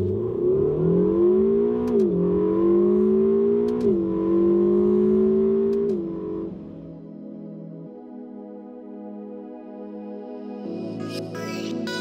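A Ferrari California T accelerates hard, its engine note climbing through stepped gear changes with brief dips, loud and close, then easing into a quieter, lower steady drone.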